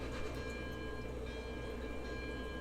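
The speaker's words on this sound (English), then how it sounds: "I'm pushing this train all the way back" A train is pushed along the rails from behind in the Railroads Online railroad game, producing a steady, even rumble of rolling wagons that stays constant and fairly quiet throughout, with no talking.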